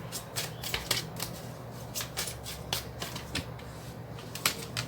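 Tarot cards being shuffled during a Thai love-fortune reading, with quick repeated riffling bursts and soft card slaps in an irregular rhythm, close and moderately quiet, no talking.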